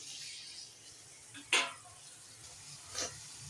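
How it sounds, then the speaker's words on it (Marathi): Chicken liver fries in oil and masala with a faint, steady sizzle, broken twice by sharp clinks of a spoon against the pan. "कलेजी तेल आणि मसाल्यामध्ये आपण छानपैकी परतून घ्यायची, म्हणजे तळूनच घेणार आहोत जवळजवळ"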